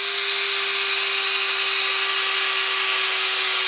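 A hex screw is driven tightly into the end of a link on an Axial XR10 rock crawler RC car. A steady, close, high-pitched power-tool whine holds one tone for a few seconds, then drops off at the end. No one speaks.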